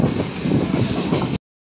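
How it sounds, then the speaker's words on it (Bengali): A train rumbles steadily and loudly up close with a low, continuous roar as it enters platform 1 at Arambagh station, then the sound cuts off abruptly. "আরামবাগ স্টেশনে 1 নম্বর প্ল্যাটফর্মে ট্রেনটি ঢুকছে"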